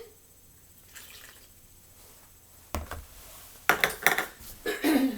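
Water poured from a cup into a bowl of cornstarch to mix oobleck, heard as a few close splashes and clunks against the dish in the second half, after quieter handling at the start.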